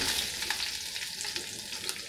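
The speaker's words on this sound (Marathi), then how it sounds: "टोमॅटो छान परतून घ्यायचे." Onion and tomato sautéing in a pan with curry leaves and asafoetida for masala dosa filling, a steady close sizzle and crackle of frying running throughout without any voices.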